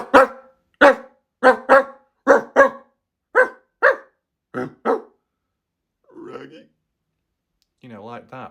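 A man imitates a dog with a series of loud, sharp barks in a quick rhythm, followed by a few softer, growly vocal sounds and no other talk.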